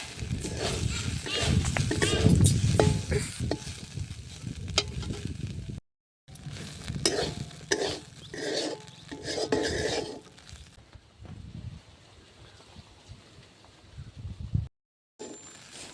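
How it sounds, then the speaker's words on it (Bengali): Grated coconut dry-frying in a hot pan, stirred with a utensil scraping and clinking against the metal in irregular bursts, with a faint sizzle underneath and a short silence partway through. "এবার আমি শুকনো কড়াইতে নারকেলটা দিয়ে ভালোভাবে ভেজে নেব"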